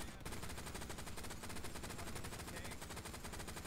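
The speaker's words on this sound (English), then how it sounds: "I'm just machine gunning it" A machine gun firing in the Hell Let Loose video game, a steady rapid stream of shots repeating evenly without pause throughout, dense and continuous.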